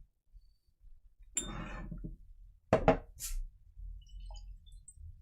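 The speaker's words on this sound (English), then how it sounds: "Let me go for the empty glass." An empty whisky glass being handled, giving a few soft clinks and scrapes separated by quiet gaps, including a sharper tap midway, all close and fairly faint.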